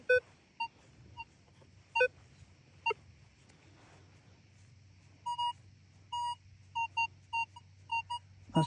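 A metal detector sweeps a Llanelli beach, giving faint scattered beeps and short tone bursts, some in quick clusters, over a low steady hum.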